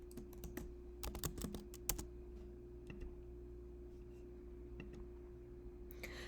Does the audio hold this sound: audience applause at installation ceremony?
no